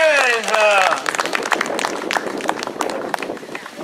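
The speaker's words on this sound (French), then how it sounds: "La coupe remise par Isabelle Danic, on va l'applaudir très fort." Crowd at a youth cycling race awards ceremony applauding, scattered crisp claps after a loud announcer's voice at the start, fading steadily toward the end.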